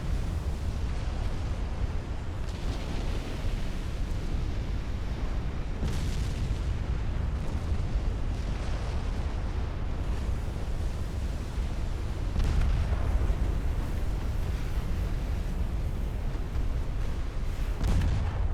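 Naval gunfire and shell hits in the Ultimate Admiral Dreadnoughts warship game: a steady, dense rumble of booming cannon fire and explosions, with heavier blasts around the middle and end, and no talk.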